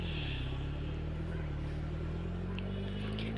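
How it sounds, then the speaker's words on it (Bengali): A car engine holds a steady, low droning hum as it drives at speed, a continuous rumble with no pauses and no voices. "এই গাড়িগুলা অনেক দ্রুত যায়।"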